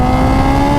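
Kawasaki Ninja H2 motorcycle, tuned to around 300 wheel horsepower, screaming under full throttle acceleration: a loud, close, sustained high-revving engine tone with strong steady harmonics and no talk.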